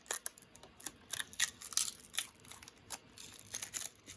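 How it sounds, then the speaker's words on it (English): Plastic wrapping crinkles and tears as it is peeled off a small Logitech Bluetooth audio receiver, a run of close, sharp crackles and rustles in irregular bursts. "let's go on ahead and take this plastic off"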